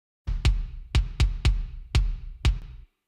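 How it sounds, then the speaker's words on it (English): An uncompressed kick drum track in a studio mix plays six deep, punchy thumps in an uneven rhythm, each with a short decay, loud and alone. "So the original kick drum sounds like this."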